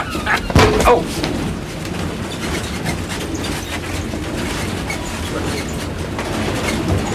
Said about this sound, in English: You got a train to stop.